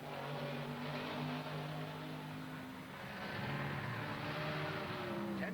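At the 1970 Trans Am race at Watkins Glen, a Mustang and a Javelin race side by side, their engines roaring loud and steady as they hold revs through a turn, with pitch swinging as they pass.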